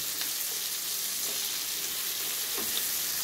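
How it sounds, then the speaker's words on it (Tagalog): Garlic, onion and tomato fry in cooking oil with a soft, continuous sizzle, close but fairly quiet, with an occasional stir or scrape and no talking. "Nilagay sa mantika, bawang, sibuyas, saka yung kamatis."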